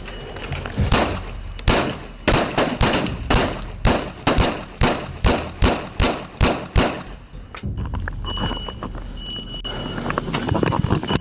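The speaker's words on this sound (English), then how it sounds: "his rampage was brought to an end by a storm of gunfire" A storm of gunfire during a police raid on a house: a long, rapid volley of sharp shots cracking in quick succession, loud and echoing, tapering into a noisy rumble.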